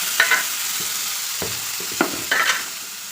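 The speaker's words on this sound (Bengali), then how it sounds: "তেল দিয়ে দিয়েছি তেলের মধ্যে জিরা জিরা দিয়ে দিয়েছি আমার সবজিগুলো ভেজে নিয়েছি" Vegetables fry in oil with cumin seeds, a constant close sizzle broken by several scraping stirs of a spoon against the pan, with no voices.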